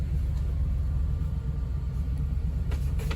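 Engine of a mobile clinic vehicle idles steadily after power-on, a low, even rumble with no voices over it.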